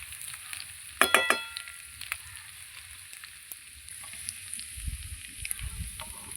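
Mung dal tipped into a hot pan with ginger for a Bengali dal with katla fish head, giving a brief burst of stirring clatter and sizzle near the start, then a steady quiet frying hiss.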